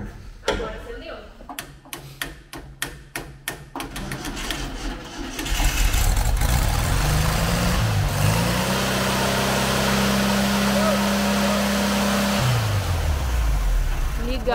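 A 1980 Volkswagen Kombi engine that had sat for 12 years and now leaks fuel: first several clicks and taps, then the engine catches and runs with a loud steady idle and a rising rev in the middle, with people talking nearby.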